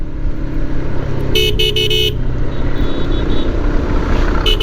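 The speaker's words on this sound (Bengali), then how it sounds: "এই বাইকের হর্নটা হর্নটা কিন্তু ভাই অনেক চোখা একটা হর্ন" A Lifan KPT 4V motorcycle horn gives a quick series of sharp beeps, then a short beep at the end, loud over steady engine and road noise while riding.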